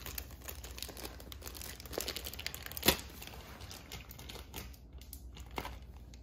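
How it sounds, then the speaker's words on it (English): A plastic package of Calico Critters toy stickers is crinkled and torn open nearby, with soft rustling broken by a sharp rip midway and scattered smaller crackles after it. "now let's open these stickers"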